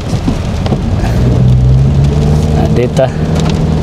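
Steady rain falls in Davao City during wet weather, a loud, dense hiss close by with a low engine-like rumble underneath and a person talking over it.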